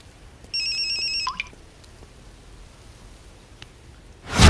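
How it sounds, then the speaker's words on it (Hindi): A phone rings with a brief electronic ringtone, a few bright repeated tones, then quiet background hiss before a loud burst of noise at the end. "केकर फोन है?"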